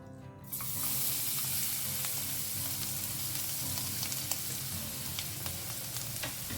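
Grated garlic and ginger hit hot oil in a pan and break into a loud, steady, close sizzle that holds evenly throughout, with occasional faint stirring clicks and no talking.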